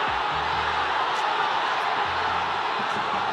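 A boxing crowd at the Marcial vs Colmenares fight roars steadily as a dense, constant wash of cheering and whoops, with a commentator's voice faintly beneath it.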